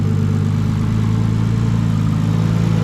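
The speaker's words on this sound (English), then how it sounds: "the engine's so quiet. I mean, you guys can hear now. I mean, it's running really well." A Nissan R32 Skyline engine idles smoothly and quietly, a steady low hum with a fine even pulse that holds unchanged throughout, heard up close with no talk.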